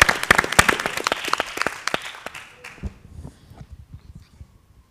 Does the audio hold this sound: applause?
yes